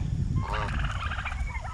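Chickens squawk in a brief, harsh, cackling burst while a dog scuffles with them, over a rumbling outdoor background.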